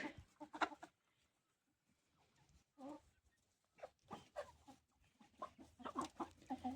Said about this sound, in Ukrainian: Курчата потрошки підростають, але в цьому році пізні